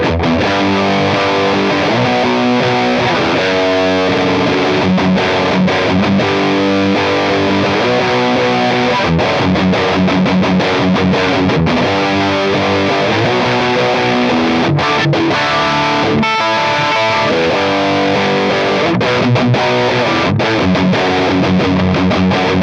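A Fender Mustang 90 electric guitar plays through heavy distortion, chugging riffs and sustained chords driving loud and continuous for over twenty seconds with no talking.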